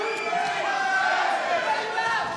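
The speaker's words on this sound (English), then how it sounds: "Now the crowd getting behind Van Heekeren." A fight crowd at a GLORY kickboxing event cheers and roars for a fighter scrapping against the ropes, a sustained, dense wall of shouting voices at steady loudness with no single voice standing out.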